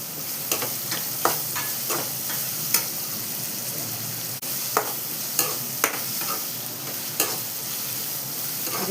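Sliced white onions with curry leaves sauté in a pan, a steady sizzle broken by frequent sharp ticks and scrapes of a stirring spoon, with no voices.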